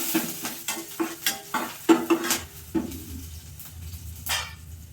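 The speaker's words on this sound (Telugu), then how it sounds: "ఇవన్నీ ఇవి వేగినవి చటాపటం అంటున్నాయి చూడండి" Green chillies frying in a pan, with a rhythmic series of utensil stirring scrapes and clacks over a soft crackling sizzle, close and fairly loud, the strokes easing off toward the end.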